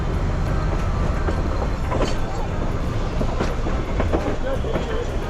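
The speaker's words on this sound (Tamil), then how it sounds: "இப்போ அப்படியே அந்த ட்ரெயின் வந்து அப்படியே ரிவர்ஸ்லே போவோம்" The Ooty to Coonoor mountain toy train rumbles along in reverse with a steady rattling clatter and occasional clicks, continuous and fairly loud, with a voice faintly underneath.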